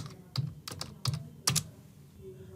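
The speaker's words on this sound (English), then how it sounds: "I'm going to type pabbly.com." A few quick keystrokes on a computer keyboard as a web address is entered, sharp separate clicks in small bursts, close and fairly quiet, with brief pauses between them.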